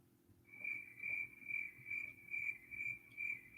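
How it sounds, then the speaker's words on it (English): Crickets chirp in a quiet setting: a clean, high trill pulsing in a steady rhythm of about eight regular bursts, faint and alone over a low background hum. "Here come the crickets."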